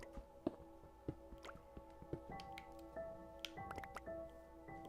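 Water drips inside a dim building in Texas, a run of sharp, irregular drops landing close by over faint background hum.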